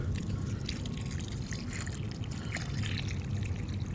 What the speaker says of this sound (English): You mix it really good before you add water to it, so that way there's no clumps in it. And just add a little water.